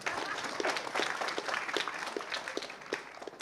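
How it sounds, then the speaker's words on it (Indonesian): An audience breaks into steady applause, dense clapping from a crowd at a political talk that holds at an even level for a few seconds. "tepuk tangan untuk rezimnya"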